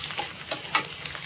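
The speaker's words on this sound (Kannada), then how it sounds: "ಈ ಥರ ಮಿಕ್ಸ್ ಮಾಡಿಕೊಂಡು ಈಗ ಅನ್ನ ಇದಕ್ಕೆ ಹಾಕಿ ಕಲಿಸ್ಕೊಂಡ್ಬಿಡ್ತೀನಿ" Rice being stirred into fried egg masala in a pan for Mangalore-style egg masala rice, a steady low sizzle broken by a few scraping spoon strokes, close and fairly quiet.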